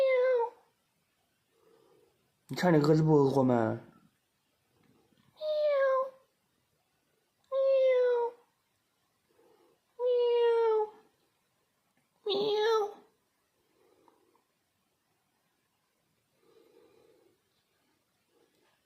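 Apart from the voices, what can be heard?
cat meowing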